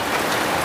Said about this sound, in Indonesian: mohon maaf ini cuaca hujan